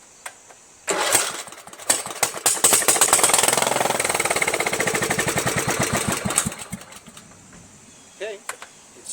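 A Kohler Command CV460S engine on a Craftsman LT1000 lawn tractor, given carburetor spray and short on fuel, cranks and fires into a loud, rough, pulsing run for several seconds, then stutters and dies, with a few faint sputters after.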